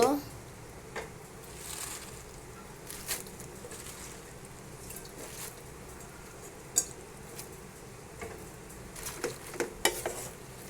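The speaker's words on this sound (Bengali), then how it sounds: "আমি এখন পুঁই শাকটা একটু লাড়া দেব।" Malabar spinach cooking in a pan is stirred now and then, giving soft scrapes and clinks of a utensil over a quiet, low sizzle, with a few sharper knocks spaced through the clip.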